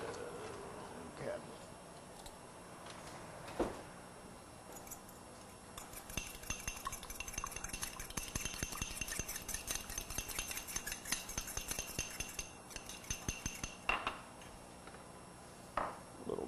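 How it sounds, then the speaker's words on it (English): A fork whisks an egg in a bowl for a scrapple and cheesy western late-night snack, giving a quiet, rapid run of ticking, clinking strokes that starts a few seconds in and carries on steadily, with occasional louder knocks against the bowl. "we need to beat the egg"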